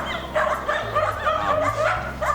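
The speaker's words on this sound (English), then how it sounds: "A bunch of dogs barking right now." Several dogs bark at once outdoors, a loud overlapping run of barks and yips in quick bursts.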